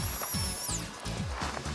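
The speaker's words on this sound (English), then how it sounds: "I'm planing it down just to make sure it's perfectly even" A hand plane shaves the edge of a wooden door during a renovation, giving repeated rasping strokes at close range against a steady high whine in the background, with no speech.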